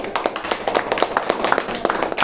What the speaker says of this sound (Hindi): क्यों ना हम जोरदार तालियां दें परमेश्वर के लिए